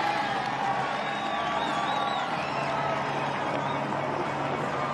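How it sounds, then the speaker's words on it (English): Dense crowd noise on the main street of Luchon during the Tour de France, a steady loud wash of cheering, whooping and clapping with scattered voices throughout, continuous for the whole stretch. "Enjoy the crowd."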